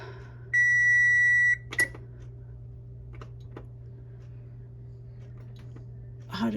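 A single steady electronic timer beep lasts about a second, followed by a soft click and quiet room hum.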